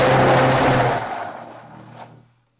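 A kitchen blender whirs loudly as it purées potatoes with milk, then the motor winds down and fades out within about two seconds.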